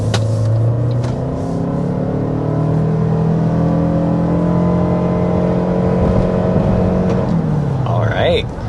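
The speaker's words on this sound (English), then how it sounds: "let's go ahead and start this off with a hard acceleration." A 2025 Toyota Sienna Platinum minivan accelerates hard to 60 mph. The engine note climbs steadily in pitch, loud and close inside the cabin, then drops away near the end, with a faint voice at the very close.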